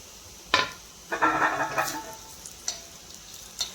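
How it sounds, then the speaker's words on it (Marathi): Coconut roasting in oil for a green chicken masala, a soft sizzle with a few sharp clinks of a spoon against the pan, near and moderate, no talking. "या याच तेलामध्ये आपल्याला खोबरं भाजून घ्यायचं आहे"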